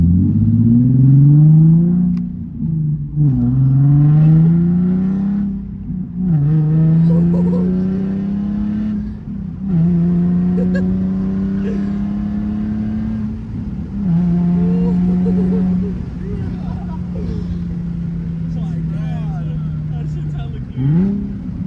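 A Nissan 370Z with a VQ engine revs hard through a loud new exhaust, rising and falling in repeated pulls with a brassy, trumpet-like tone, while excited voices talk over it.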